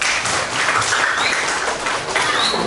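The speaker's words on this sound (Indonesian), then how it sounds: "Tepuk tangan untuk Nadim." Applause from a classroom of pupils fills the moment, a dense, steady patter of many hands clapping at close range with no talking over it.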